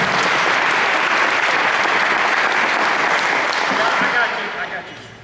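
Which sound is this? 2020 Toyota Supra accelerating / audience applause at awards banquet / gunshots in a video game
audience applause at awards banquet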